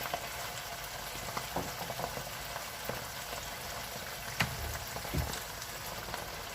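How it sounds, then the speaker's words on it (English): Food frying in a very hot, smoking pan gives a steady, dense crackle, with a few sharper pops and spits rising above the continuous sizzle. "The pan is very hot. That is why you see a lot of smoke. I'm going to allow it to fry very well"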